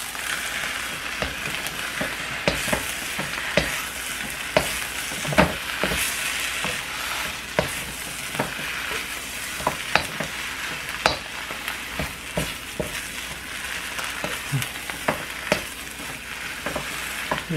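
Korean fried rice frying in a pan while being stirred: a steady loud sizzle runs throughout, broken by frequent sharp scraping clacks of a utensil against the pan in an uneven rhythm, close up with no talking.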